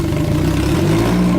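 The outboard engine of a 2003 Bennington 2275 FSI pontoon boat revs in reverse, giving a loud, close, rough mid-to-low engine drone that swells briefly under added throttle.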